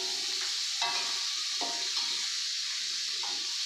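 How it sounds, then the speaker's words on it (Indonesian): Garlic and shallots with petai sizzle steadily in hot oil in a wok, a continuous loud frying hiss with intermittent stirring scrapes and clinks, no voices. "setelah minyaknya panas, mari kita masukkan bawang putih dan bawang merah. Tumis."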